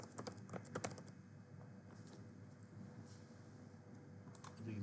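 Quiet, close typing on a computer keyboard, with bursts of rapid key clicks at the start and scattered taps afterward over a low steady hum.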